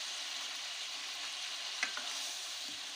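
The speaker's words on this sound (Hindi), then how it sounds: "हमारा प्याज और चिकन दोनों फ्राई हो चुके हैं।" Chicken and onion frying in a pan with ginger-garlic paste and spices: a steady, fairly quiet sizzle with a brief stir or scrape near the middle, no voices.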